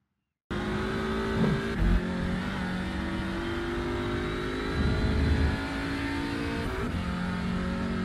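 An Audi RS3 LMS TCR touring car on a hot lap in iRacing at Mid Ohio, its engine droning loud and steady throughout, rising and falling with brief gear-shift breaks and revs, no voices.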